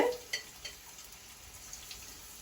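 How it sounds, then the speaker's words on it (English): Steady crackling sizzle of tempura (shiitake and zucchini) frying in hot oil, with a few sharp pops and clinks near the start. "so I'm just frying now"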